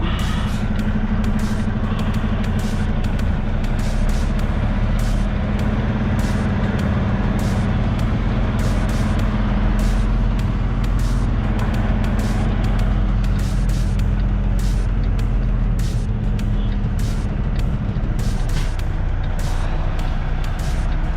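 Heavy truck idling and maneuvering at a Detroit delivery stop, a loud steady diesel rumble with repeated short air brake hisses and releases throughout, no talk.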